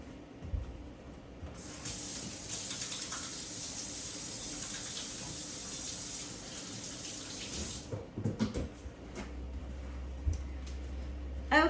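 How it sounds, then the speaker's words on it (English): Water runs steadily from a tap for about six seconds while hands are washed before baking snickerdoodle cookies. It stops with a few splashes and clatters of handling. "The first thing you are going to want to do, if you haven't already, is wash your hands."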